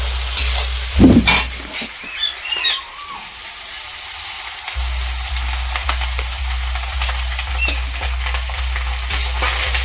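Cooked rice tipped into a pan of fried shrimp and green chilli and stirred, with a loud scrape and clatter early on, then a steady low hiss and faint sizzle running alone.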